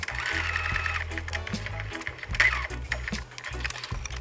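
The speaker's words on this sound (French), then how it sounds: "Je n'oublie pas de remettre le point droit sur ma machine à coudre." A sewing machine runs a straight stitch while elastic is sewn onto cloth: a steady, close mechanical hum with a fast rhythmic needle pulse, broken by a few short stops and restarts.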